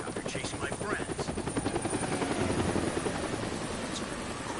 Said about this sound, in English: That's the helicopter chasing my friends.